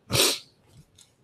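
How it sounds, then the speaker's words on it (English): A single sharp, close sneeze, followed by a couple of faint breaths or sniffs. "Trying to recover from my sneeze for just a second"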